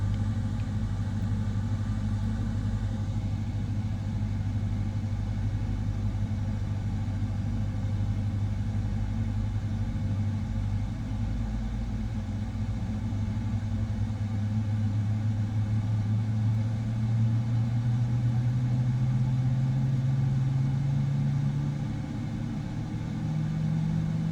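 Boeing 777-300ER engine spooling up during start in Microsoft Flight Simulator 2024, a steady low cockpit rumble with a tone slowly rising toward the end, continuous and without talk.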